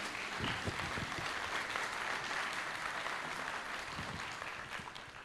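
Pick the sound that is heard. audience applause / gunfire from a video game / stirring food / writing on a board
audience applause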